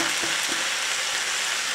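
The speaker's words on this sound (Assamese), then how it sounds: "এয়া চাওক কেনেকৈ লৰাই আছোঁ মই" Jackfruit curry bubbles and sizzles in a pan with a steady, dense frying hiss, a few soft stirring scrapes near the start, heard close.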